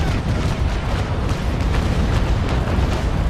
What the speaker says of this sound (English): Putting to rolling front fire mode and getting ready, aiming for the waterline and fire.